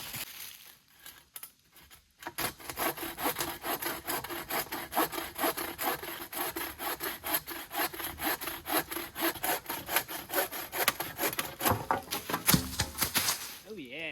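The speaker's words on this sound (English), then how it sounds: "Let me try that other saw." Hand saw cutting through a dead tree outdoors at a campsite, rapid rasping strokes in a steady rhythm after a short quiet start, close and dominant.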